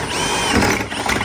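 Power drill with a stepped-up bit boring a bolt hole near a car's core support and radiator, a close, loud grinding whir with a ratcheting mechanical edge, steady throughout the short burst.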